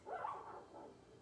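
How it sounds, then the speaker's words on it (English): A puppy gives a short, soft whimper, faint and brief, heard alone against quiet room tone. "And a puppy chuckles."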